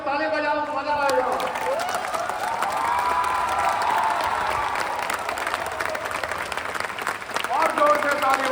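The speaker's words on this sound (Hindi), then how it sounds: "ताली बजाओ, मजा आएगा।" A large crowd claps at a gathering in India, producing a continuous loud patter of many hands. Voices call out over it at the start and again near the end.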